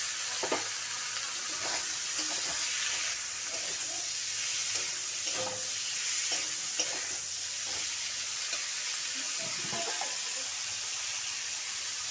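Green beans sizzle and fry in a pan for a beans curry, with a steady hiss and scattered scrapes and clinks of stirring throughout, no voices.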